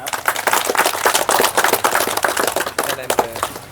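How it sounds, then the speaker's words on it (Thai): Audience applause at a community house-building event for disabled people in Chachoengsao province, Thailand: dense, steady clapping from a crowd that runs unbroken through the whole stretch, fairly close and lively. "ขอเสียงปรบมือด้วยนะครับ"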